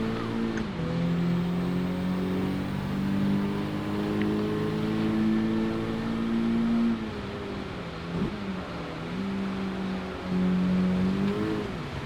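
Car engine revving in a racing video game with wet track sections: a loud, steady engine drone that rises and dips in pitch as the throttle is worked back and forth, sustained throughout.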